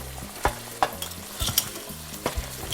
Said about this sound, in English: Mix it up a little bit. Get it all this red sauce on the shrimp.